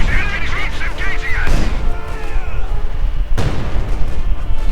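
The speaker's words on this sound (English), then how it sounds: "Bombardment going on against the half-track, wiping out several pioneers." Artillery bombardment in a World War II real-time strategy game, with two sharp booming blasts over a continuous battle din, heard under a commentator's voice.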